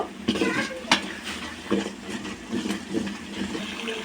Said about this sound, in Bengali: আমি খুব ভালোভাবে মশলাটাকে মিক্স করে নেব, খুব ভালোভাবে মশলাটাকে ভেজে নেব।